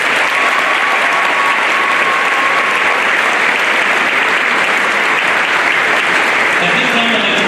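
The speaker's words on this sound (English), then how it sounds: "Can we give them a round of applause, please?" Sustained applause from a crowd at a school special event honoring a football season, dense and steady throughout at a fairly loud level, with a faint background voice briefly audible.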